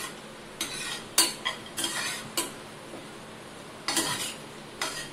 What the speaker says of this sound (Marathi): लालसर होईपर्यंत आपण ते परतून घेऊया।